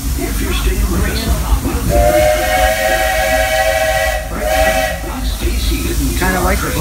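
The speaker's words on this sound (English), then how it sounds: "kind of like the blow of the fire against that steam on the whistle." The steam locomotive whistle on the Walt Disney World Railroad sounds during a night ride behind the Lilly Belle, a loud sustained hissing whistle blast lasting about two seconds with a short second blow, over steady train rumble and steam hiss.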